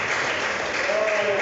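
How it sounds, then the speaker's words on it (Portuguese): Church congregation applauding together during a sermon, a dense steady wash of clapping that holds evenly from start to finish with no pauses. "Aplauda mesmo."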